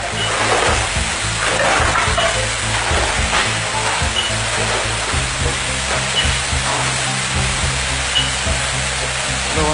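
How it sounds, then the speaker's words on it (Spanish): Firefighters spray water onto a fire in a crowded area of stacked containers, producing a steady hissing, splashing rush with a low engine or pump drone beneath, continuous and fairly close. "Los bomberos se enfrían en la zona, rociando agua"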